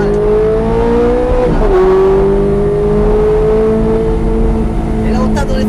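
A Ferrari F430 Scuderia accelerates hard on a race track, its loud engine note climbing, dipping briefly at a gear change, then rising again. A voice talks over the engine.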